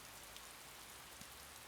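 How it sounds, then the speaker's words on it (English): Soft, steady rainfall ambience from the video game Piofiore: Fated Memories, a faint continuous hiss with no voices. "He stood there under the rain."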